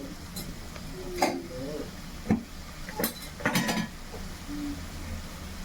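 A spoon stirs salt into cucumber kurma in a pot, scattered scrapes and light clinks against metal over a quiet background sizzle.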